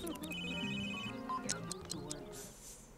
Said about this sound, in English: Typical, your phone goes.